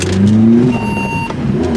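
A tuned, high-powered Vauxhall Corsa revs loud and close: the engine climbs in pitch, eases off briefly, then surges again, a strong mechanical tone with no voices over it.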